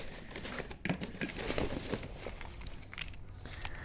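Plastic straps being cut on the box of an Afikim Afiscooters C4 full-size mobility scooter, heard as dense crinkling, snapping and rustling of packaging with a few sharper snips, close and continuous.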